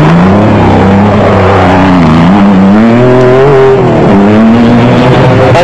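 Off-road race trucks, American-built vehicles among them, roar through the Sugarbelt Off Road Race in South Africa, loud sustained engines rising and falling in pitch as they accelerate and shift, with no talk over the racing.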